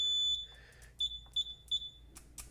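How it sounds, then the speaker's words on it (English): Several quick high-pitched electronic beeps from a Fluke multimeter continuity test, one longer tone followed by short chirps, close by with faint background noise. "The fluke one beeps real quick."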